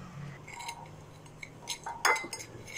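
A metal utensil stirs Indomie instant noodles with oil in a pot, giving faint, scattered clinks and scrapes with one sharper clink near the end.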